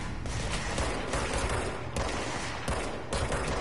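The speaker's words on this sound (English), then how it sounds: "Are you the one that's been shooting me?" Enemy gunfire in Control: steady rapid bursts of automatic fire with sharper shots every half second or so, continuous and fairly close, over a dense combat din.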